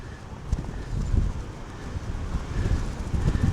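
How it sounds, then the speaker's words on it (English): Wind blowing on the island of Aruba gusts and rumbles across the microphone in an outdoor spot, a steady low roar with brief buffeting bumps and no talk. "It's pretty windy here."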